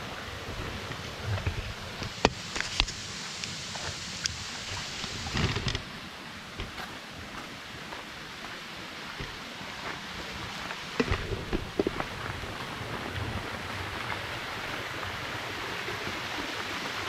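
Antharganga waterfall in a deep forest, at a dam that stores water, rushes in a steady broad roar, broken by a few sharp thumps and gusty bursts near the start and again later.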